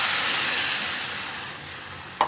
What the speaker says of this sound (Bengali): একদিক ভাজা হয়ে গেছে, আর একদিক ভাজা হয়ে গেল